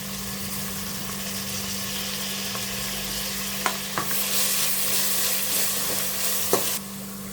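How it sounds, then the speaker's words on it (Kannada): Fenugreek leaves frying in hot oil, a continuous close sizzle with a few sharp stirring scrapes and clinks over a steady hum of background noise. "ಇದನ್ನು ಸ್ವಲ್ಪ ಚೆನ್ನಾಗಿ ಫ್ರೈ ಮಾಡ್ಕೊಳ್ಳೋಣ ಆಯಿಲಲ್ಲಿ"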